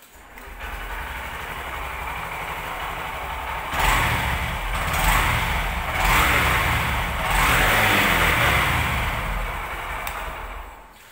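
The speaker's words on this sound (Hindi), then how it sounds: "let me show you the sound of this bike" A Honda SP 125 motorcycle engine runs close by with a steady low rumble, swelling in a few throttle blips partway through before settling back to a steady run.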